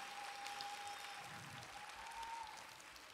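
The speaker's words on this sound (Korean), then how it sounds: "다시 한번 박수 크게 주실까요?" A chapel congregation at a seminary service applauds in a steady, dense wash of clapping. It sounds fairly distant and soft and lasts a few seconds before tapering slightly.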